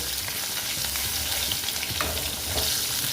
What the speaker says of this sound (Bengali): দিয়ে আলুগুলো আমি ভালো মতন ভেজে নেব ফিফটি পার্সেন্ট ভেজে নেব